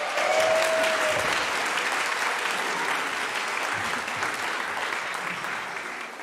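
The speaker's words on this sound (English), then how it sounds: "Let's give a quick round of applause to our volunteer, John" A church congregation at a Sunday worship service bursts into warm, sustained applause, a dense clapping crowd that stays strong for several seconds and then slowly tapers off.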